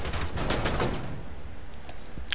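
Rapid bursts of gunfire crackle in the shooter game Rainbow Six Siege, dense and loud for about a second before thinning into scattered, fainter reports.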